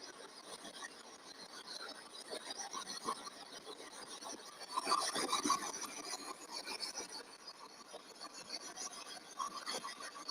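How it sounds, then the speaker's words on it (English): Spirit box radio sweep noise, a continuous hissy, scratchy static hash with rapid choppy fluctuations and brief bursts, faint but steady throughout with no clear voices. "If you're talking about this, it's called the spirit box."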